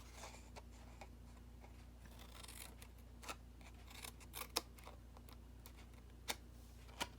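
Scissors snipping notches into paper for a Paper Pumpkin papercraft kit, a few sharp isolated clicks spaced irregularly over a quiet, humming background, close and fairly faint.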